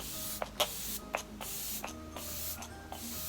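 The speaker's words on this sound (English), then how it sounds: "The mist is so fine that you wouldn't even feel that you were spraying your face." Several short, soft bursts of fine makeup setting spray mist hiss close by onto a face, spaced irregularly against a quiet background hum.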